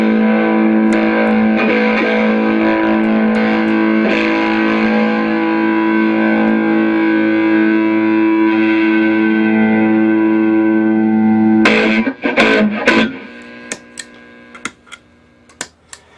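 Electric guitar through stacked Donner and Mooer mini effect pedals, a heavily processed chord ringing out with distortion and echo, then cut off, leaving a few sharp clicks and ticks near the end.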